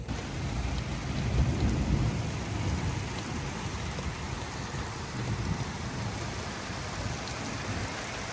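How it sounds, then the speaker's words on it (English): Heavy rain pours steadily through a night thunderstorm, with low rumbling thunder swelling early on beneath the constant loud hiss of downpour; no voices. "look at this thunderstorm"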